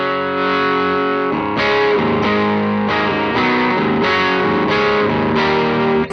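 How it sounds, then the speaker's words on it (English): Electric guitar played through a Pigtronix Disnortion pedal on a clean setting, which still has a slight grit. Loud, sustained strummed chords ring out in regular repeated strokes with no talking. "So here's a clean sound."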